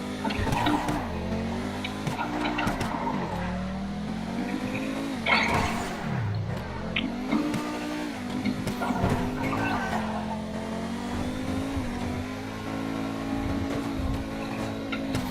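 A $2 million car drives at full throttle, its engine note rising and falling through gear changes with tire squeal, loud and close throughout.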